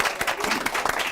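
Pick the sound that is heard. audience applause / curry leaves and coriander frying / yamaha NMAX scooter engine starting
audience applause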